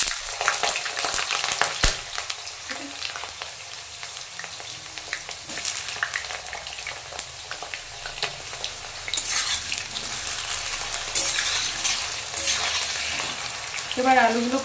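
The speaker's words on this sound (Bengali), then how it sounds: "বড়া ভাজার ওই তেলে এবার আমি আলুগুলোকে ভেজে নেব।" Potatoes frying in oil left over from frying lentil fritters (bora), a steady crackling sizzle with occasional stirring and utensil scrapes throughout, close and continuous.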